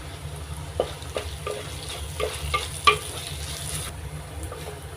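Onions and curry leaves sautéing for crab roast give a soft, steady sizzle broken by light, irregular scrapes and taps of a spoon against the pan.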